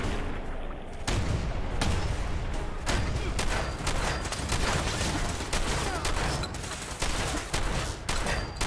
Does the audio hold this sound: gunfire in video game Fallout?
yes